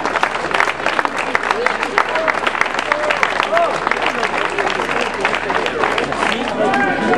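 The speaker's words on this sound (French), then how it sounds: "les applaudissements." A crowd applauds at a French cooking contest event, with dense, steady clapping that lasts throughout, mixed with crowd noise and a voice speaking over a loudspeaker.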